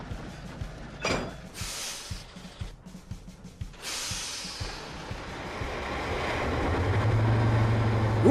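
A deep growl from Bear, the diesel engine in an animated railway series, building steadily from a low rumble into a loud sustained drone with a hissing wash, following a few sharp knocks and clanks.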